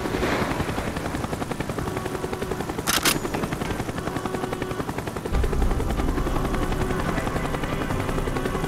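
A helicopter in Call of Duty: Black Ops thunders close by, its rapid rotor chop loud and continuous, joined by gunfire bursts and a sharp impact midway as the heavy throbbing carries on.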